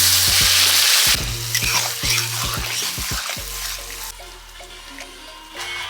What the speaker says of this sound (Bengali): তেল গরম হয়ে গেছে পেঁয়াজ আদা রসুন বাটা দিয়ে দিলাম